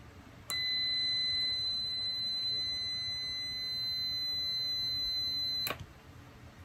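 Multimeter continuity tester beeping on freshly soldered wires: one steady, high electronic tone sounds for about five seconds, then cuts off, with nothing else around it.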